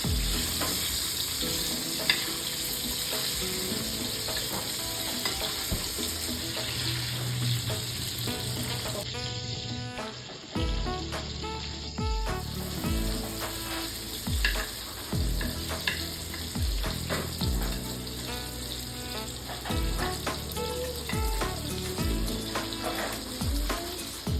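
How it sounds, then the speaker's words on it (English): Pomfret fish frying in a pan, Konkani coastal style: a steady, close, loud sizzle that continues throughout, with occasional scraping as the fish is turned and no talking. "Keep turning the fish carefully so it cooks evenly from all sides and become nice and crispy."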